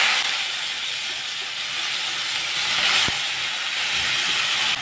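Eggplant, potato, tomato and cauliflower stems, pre-salted, sizzle in hot oil with a steady, close, loud hiss that holds throughout, with a brief clatter partway through.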